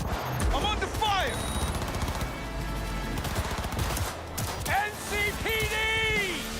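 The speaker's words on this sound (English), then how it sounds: "I'm under fire!" Gunfire in Cyberpunk 2077 rattles in dense, fast bursts throughout, loud and close, while voices shout over the shooting.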